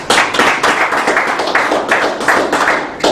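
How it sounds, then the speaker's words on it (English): A group in a cognitive-skills group session claps in a dense, continuous patter of many hands. The applause stays even and close throughout, with no voices over it. "Applause, applause, applause."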